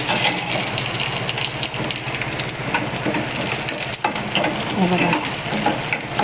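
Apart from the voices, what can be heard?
green chilies and garlic roasting in a pan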